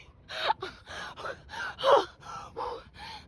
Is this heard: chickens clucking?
no